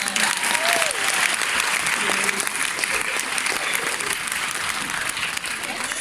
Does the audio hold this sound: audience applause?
yes